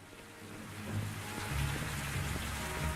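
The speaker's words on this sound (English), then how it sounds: "And it's raining again." Rain in the video game Morrowind falls in a steady wash of hiss, with a low rumble swelling underneath partway through; no voices.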